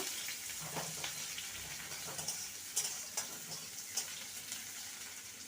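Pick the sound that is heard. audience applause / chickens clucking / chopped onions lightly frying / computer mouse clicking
chopped onions lightly frying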